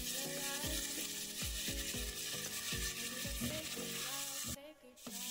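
Tomato sauce being stirred in a frying pan for creamy tomato spaghetti, with onion in the mix: steady sizzling under repeated low scraping strokes of a utensil, with a brief dip near the end.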